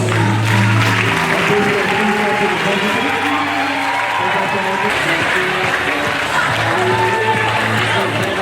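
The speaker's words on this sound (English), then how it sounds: "Clapping well, please, on this note, I want you to clap better" Audience applause at a university entrepreneurship orientation programme, a steady, dense wash of clapping that fills the whole stretch at even loudness, with a low hum beneath.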